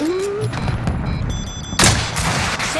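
Gunfire in the Call of Duty video game, a loud sharp blast near the end over a busy game mix of scattered shots and effects, with no talking.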